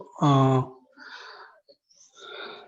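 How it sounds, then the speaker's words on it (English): A single voiced sound, then slow, airy hissing breaths in and out during ujjayi pranayama breathing, soft and close, like controlled throat breathing. "it sounds like when we inhale and exhale, the hissing sound, it's like we are standing in ocean"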